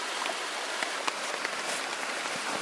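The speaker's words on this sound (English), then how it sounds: "It's raining again." Rain falls at a riverside campsite at night as a steady, even hiss with scattered sharper drop ticks throughout. It stays moderately loud, and no one speaks.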